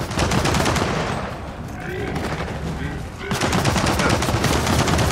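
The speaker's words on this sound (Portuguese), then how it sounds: "Esse tiro de novo" Rapid automatic gunfire in Gears of War 4 rattles in dense sustained bursts, loud and close, briefly easing before resuming at full intensity, with a voice speaking beneath.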